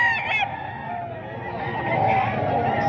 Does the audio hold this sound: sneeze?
no